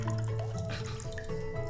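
Water drips and trickles from freshly made butter being wrung out after a wash in spring water, a faint run of small wet drops over a low tonal background.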